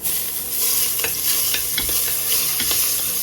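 Garlic sautés in a hot pot as the base for a mung bean stew with squash and okra, giving a loud, close sizzle broken by repeated scraping stirs and no voices.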